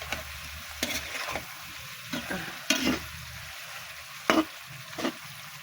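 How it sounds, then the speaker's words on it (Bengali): Pumpkin with its peel cooking in a pan without water, a soft steady sizzle broken by several distinct scraping stirs at irregular intervals, close and fairly quiet. "এই যে এইভাবে নাড়াচাড়া করতে করতে আস্তে আস্তে সিদ্ধ হয়ে যাবে"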